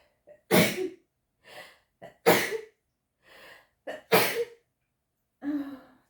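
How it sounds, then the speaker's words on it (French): Three loud, sharp sneezes ring out close by, each followed by a pause with softer breaths and small throat sounds between them. "je vais éternuer"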